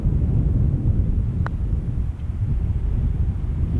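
Steady wind buffets the microphone on an open disc golf course, a continuous low rumbling roar with no breaks, loud and close, with a couple of faint tiny clicks.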